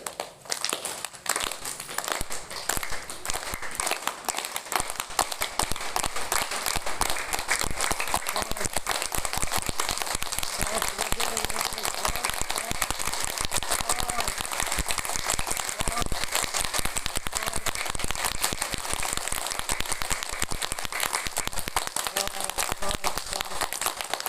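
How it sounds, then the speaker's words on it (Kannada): Clapping by a yoga group practising together, a dense, continuous crackle of many hands beating hard and fast for the whole stretch, loud and steady with no pauses. "ಚಪ್ಪಾಳೆ ಹೊಡೆದು ಕೈಗಳನ್ನು ಕೆಂಪಾಗಿರ್ಬೇಕು"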